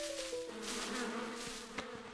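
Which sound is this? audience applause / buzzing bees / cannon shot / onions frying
buzzing bees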